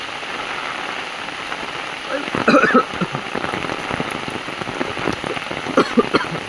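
Heavy, fast rain on an outdoor trip near a reverse waterfall, a steady dense hiss throughout with sharper spatters on nearby surfaces, while voices call out briefly over it.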